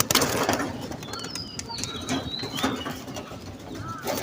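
Pigeons released from a loft burst into flight with flurries of flapping wings close by, followed by softer wingbeats and faint coos in an outdoor rooftop setting.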